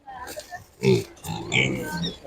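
Landrace-Pietrain meat pigs grunt at an animal market, short grunts and snorts close by, mixed with people talking.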